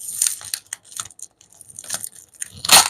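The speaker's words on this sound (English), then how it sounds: "So we're gonna take apart this tape." Tape is pulled and torn off a bead package in several uneven crinkly rips and crackles, close by, ending in a louder sharp tear.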